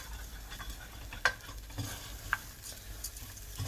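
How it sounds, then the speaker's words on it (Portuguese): Risotto rice grains being stirred and toasted in a hot pan, with a soft continuous sizzle and a few sharper scrapes and clicks of the spoon against the pan, steady and close. "É até aí que nós vamos refogar, né? Tostar o nosso grão,"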